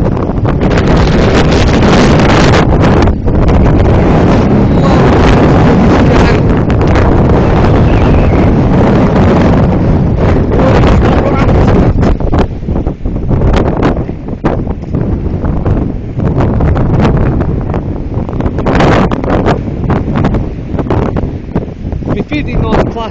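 Wind of about 50 knots blasts across the microphone at Point Lonsdale during a fishing outing, a loud, continuous, buffeting roar with heavy gusts and occasional brief lulls, and talk mixed in.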